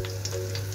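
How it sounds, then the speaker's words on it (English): Oil heats in a pot for Nigerian stew, giving a faint, steady sizzle with soft crackles over a low background hum. "I'm going to leave this oil to get heated a bit."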